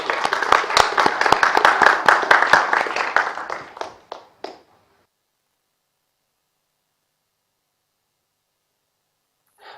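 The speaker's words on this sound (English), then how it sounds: "please, a quick round of applause for our friend from Google" Brief round of applause from a conference audience at a decentralized knowledge graph event, dense clapping for about four seconds that thins out into a few last claps, followed by near silence.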